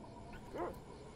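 A short dog bark from the Secret of Evermore video game rises once mid-clip, quiet and brief over a steady hum of game background noise.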